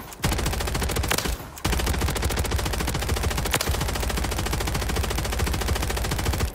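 Assault rifle with a 100-round magazine firing in Warzone, a sustained rapid automatic burst that runs almost the whole time with two brief gaps, loud and close, no talking.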